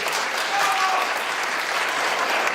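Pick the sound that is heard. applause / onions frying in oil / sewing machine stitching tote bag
applause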